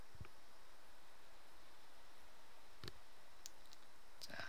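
Faint mouse clicks, a few sharp isolated taps, sound over a steady background hiss while the Next button is pressed to install FileZilla on a computer.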